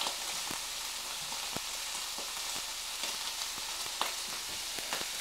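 Onion and bacon mixture frying in a pan for kugelis as it is stirred, a steady close sizzle with scattered crackles and soft scraping clicks throughout, no voices.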